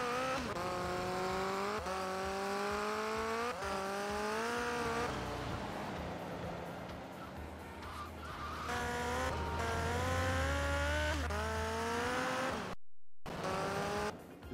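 Racing sport bikes in the video game GTA Liberty City Stories: loud, continuous engine whine that repeatedly revs up and shifts, with a deep low drone building midway and a brief dropout near the end.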